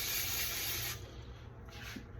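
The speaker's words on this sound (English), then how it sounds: "We're gonna spray our pan for our Brussels sprouts" Cooking spray hisses onto a pan about to hold Brussels sprouts, a steady, close, loud burst lasting about a second before cutting off into quieter kitchen rustle.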